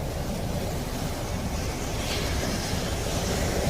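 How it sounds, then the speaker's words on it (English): Seawater surges against the shore at Buff Bay in Portland, Jamaica, a steady broadband wash of surf mixed with wind noise, loud and continuous throughout with no voices. "Look at those waves."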